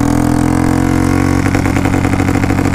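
Royal Enfield Bullet fitted with a ZX10R exhaust, accelerating hard in second gear: a loud, close, continuous thumping engine note that turns sharper and more rapid partway through as the revs climb.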